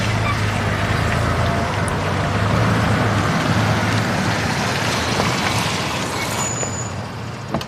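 A truck rumbles close by with low engine drone and traffic noise, a sharp hiss of air brakes cutting in near the end, no voices heard.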